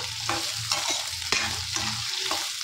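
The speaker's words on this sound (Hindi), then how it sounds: "अच्छे से प्याज को हल्का हल्का ब्राउन करने तक भून लेते हैं" Finely chopped medium onions sizzle steadily as they fry in a pan, with repeated scraping strokes of a spoon stirring them at a regular pace.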